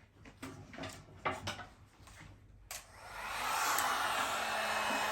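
After a few soft taps and scrapes, a heat tool blasts on to warm spread epoxy resin on a furniture piece, its steady roaring, hissing airflow swelling and holding fairly loud to the end.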